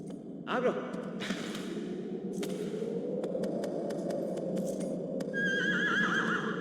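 A horse in the game Shadow of the Colossus whinnies with a wavering neigh over a soft background drone, followed by breathy sounds and a higher whinny near the end.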